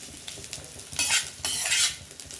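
Hot tempering for jeera rice, meant for a brinjal masala meal, sizzles loudly in two sharp bursts with a metal spoon stirring and scraping in the pan, close up and without talk.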